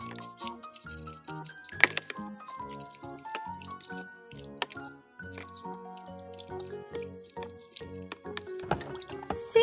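Running water splashes and drips while bath paint is washed off a Disney princess toy, with close, uneven splashing and trickling, a few sharp plinks, and music playing beneath throughout.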